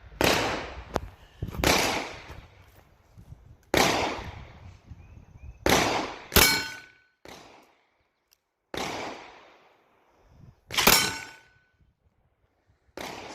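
Taurus Judge 6-inch revolver shots fired outdoors, loud sharp cracks with ringing decay, spaced a second or two apart, roughly eight reports in all with quiet gaps between.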